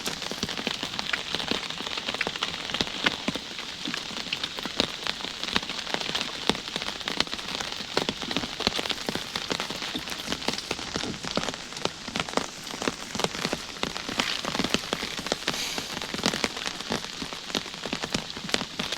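Steady, heavy rain patters and hisses across surfaces for the whole stretch, dense and close, with no voices.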